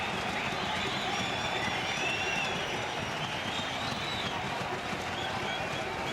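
Large crowd at an India versus New Zealand one-day international cricket match roars steadily after a wicket, a dense, continuous wall of cheering and clapping held at even loudness throughout.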